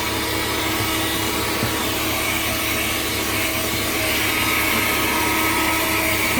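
A vacuum cleaner runs steadily with a broad, even whine and hiss, loud and close throughout, with no talking.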